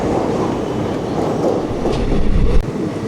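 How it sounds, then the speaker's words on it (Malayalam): The Chennai Guruvayur Express passes close by near Ernakulam, giving a continuous loud rail rumble and rolling wheel clatter that swells slightly toward the end, with no voices. "നമ്മുടെ ചെന്നൈ ഗുരുവായൂർ എക്സ്പ്രസ് കടന്നു പോയിക്കൊണ്ടിരിക്കുകയാണ്"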